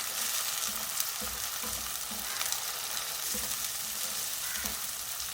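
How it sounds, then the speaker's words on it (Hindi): Garlic ginger paste fries in a pan with onions, giving a steady, bright sizzle with faint soft stirring scrapes, close and continuous at low volume with no talk. "लहसुन अदरक का पेस्ट डाल के मैंने 1 मिनट इसको फ्राई कर लिया है"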